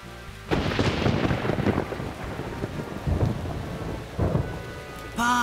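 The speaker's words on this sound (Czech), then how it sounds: "Páni, slyšíte ty hromy?" Thunder during a storm in an animated children's cartoon: several loud, rumbling thunder bursts over steady heavy rain, with a brief tonal sound at the very end and no talking.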